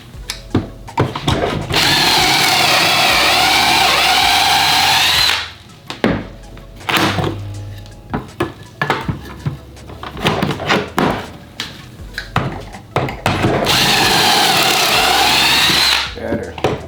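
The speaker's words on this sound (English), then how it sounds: "this is an 18-volt drill." Ryobi 18-volt entry-level cordless drill boring pocket holes, two long loud whirring runs of several seconds each, separated by clicks, knocks and handling noises from the workshop.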